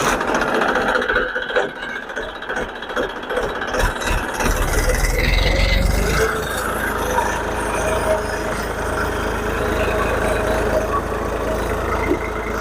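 A tractor pulls a tine (claw) cultivator working deep through field soil, a steady loud engine drone with a lower rumble building partway through, continuous throughout.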